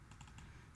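Rapid keystrokes clatter on a computer keyboard, a quick run of close, light clicks in under a second.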